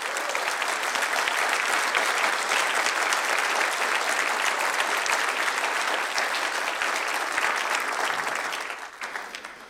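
Sustained audience applause at an evening taz Salon event in Hamburg, dense and steady for most of the stretch before thinning out at the very end.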